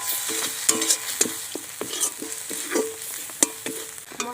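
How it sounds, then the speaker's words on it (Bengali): Ground spices — turmeric, chili, coriander and cumin powders — sizzle and fry in a pan for a vegetarian 'fish' curry while a spatula scrapes and stirs in repeated sharp clacks, close and steady throughout. "মশলাগুলো আমি ভালো করে কষিয়ে নিয়েছি।"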